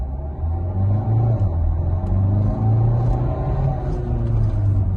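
A Renault Clio 4 with a 1.5 diesel engine pulls under full throttle, its loud, close engine drone rising and holding steady with a deep rumble throughout.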